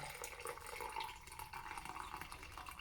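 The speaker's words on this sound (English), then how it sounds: "And we pour the coffee out." Raktajino, a Klingon-style coffee, being poured out of a pot with a loose lid, a faint, steady liquid trickle heard alone for about three seconds.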